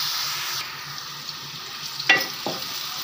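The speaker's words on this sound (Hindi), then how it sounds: "ये प्याज अब फ्राई हो रहा है" Chopped onions frying in oil in a pan, a steady close sizzle with a couple of brief stirring scrapes near the end, no talk.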